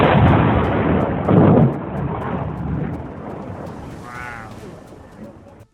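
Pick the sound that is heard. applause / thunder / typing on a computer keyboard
thunder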